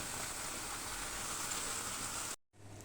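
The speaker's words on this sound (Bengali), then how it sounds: "একদম ভাজা ভাজা করছি" Chicken meat frying crisp in hot oil while cooking Arabic-style khichuri, a dense steady sizzle that fills the clip loudly before cutting off abruptly near the end.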